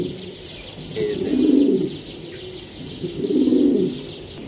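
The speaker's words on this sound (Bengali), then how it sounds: "ভাই, এই যে আর একটা কবুতর" Original racing pigeons at a breeder's farm in Bangladesh coo close by in two soft, throaty bursts about two seconds apart, over a faint steady hum with no voices.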